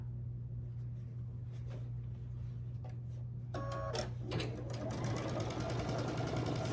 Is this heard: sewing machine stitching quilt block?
yes